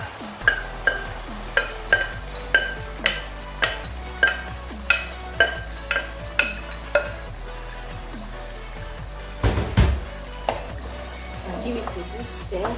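A spoon stirs ayamase stew with blended tomatoes in a pot, tapping and scraping in a steady rhythm of sharp knocks about every half second, then a louder clatter near the end before the bubbling settles.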